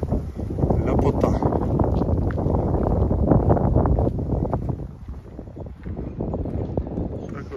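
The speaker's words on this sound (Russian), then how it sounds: "Ветерок поднялся" Wind gusting outdoors by a river on a sunny day, buffeting the microphone with steady low roaring noise that eases slightly toward the end.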